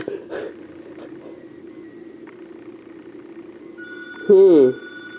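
A house telephone gives a short electronic ring near the end, a bright warbling burst lasting under a second after a faint tone begins, heard close by over a quiet room with faint background noise.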